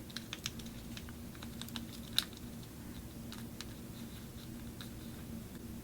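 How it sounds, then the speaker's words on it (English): Origami paper for a paper corn model is folded in half, giving faint, scattered crisp taps and soft crinkles with one sharper crease snap in a quiet room. "And now let's fold the entire thing in half."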